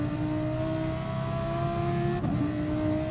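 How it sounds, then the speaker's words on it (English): Audi race car engine in Gran Turismo, a loud sustained high-pitched engine note holding steady, with a brief dip around a gear change before it resumes. "Listen to that engine roar."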